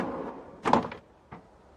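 A drawer on a 52-inch stainless steel toolbox rolls open with a short metallic slide and rattle, followed a moment later by a brief, softer clunk.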